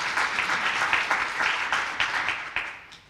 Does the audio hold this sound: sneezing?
no